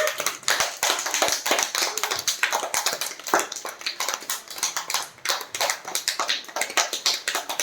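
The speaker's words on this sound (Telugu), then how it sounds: "క్లాప్స్ కొట్టండి అన్న" Children clap together in a room, a steady burst of many quick, overlapping hand claps lasting several seconds, fairly close and with no talking.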